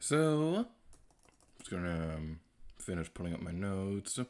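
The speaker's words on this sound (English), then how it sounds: "If you hear typing in the background, that's me." Computer keyboard typing from a streamer pulling up notes, soft clicks running in the background while he talks over them closely.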